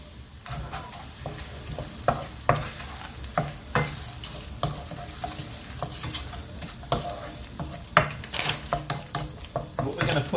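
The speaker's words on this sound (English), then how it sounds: "we will first of all fry some onions" Frozen chopped onions frying in hot oil, a continuous close sizzle with frequent clattering stirs and spoon knocks against the pan, with a voice talking over it at times.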